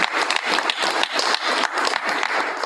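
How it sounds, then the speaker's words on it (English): A school board meeting audience applauds a student of the month, a dense steady round of many hands clapping throughout. "Another round of applause for our CMS students."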